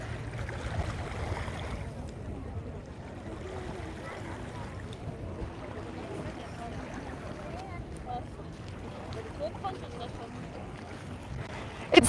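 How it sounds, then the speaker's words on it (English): Wind gusts on the beach at Alcudia, Mallorca, with steady low rumbling buffeting across the microphone and a faint sea wash underneath. "It's still windy."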